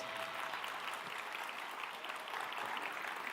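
A church congregation applauds, a dense, steady burst of many hands clapping together that fills the room without letup.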